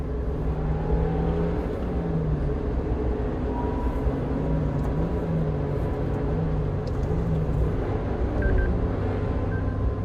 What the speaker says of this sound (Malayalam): ഞാൻ ന്യൂട്രലിലേക്ക് ഇട്ടു, റെവ് ചെയ്തു, സെക്കൻഡാക്കി, സ്മൂത്തായിട്ട്